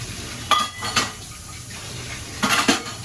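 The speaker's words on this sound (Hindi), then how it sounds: "मेरे बर्तन भी धुल गए हैं लगभग।" Dishes, pots and cutlery being washed, with a few sharp clinks and clatters, two at the start and two near the end, over a faint background hiss; no one speaks.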